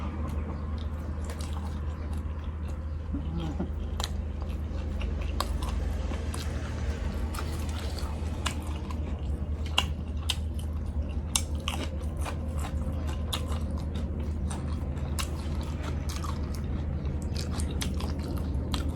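Someone eats a mushroom salad made with mashed young mushrooms and tiw leaves, producing close, steady chewing with soft crunches and wet squishes over a low background hum.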